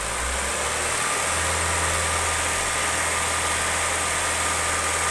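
A car engine held steady at 2500 rpm during a vacuum gauge health test, giving a continuous, even hum with a low droning tone and no speech.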